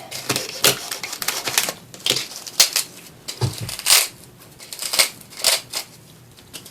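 A Dollar Tree craft piece being cut in half for a wedding centerpiece: a series of crisp, irregular snips and crinkling cuts, close and fairly loud, with pauses between strokes and no talk.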